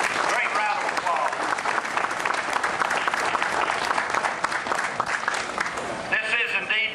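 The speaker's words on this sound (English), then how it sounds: "Colonel Cass, Sergeant Major, a great round of applause." Dense, loud audience applause for ROTC cadets and staff at a veterans salute event, sustained clapping from a large crowd that tapers near the end as a voice begins speaking.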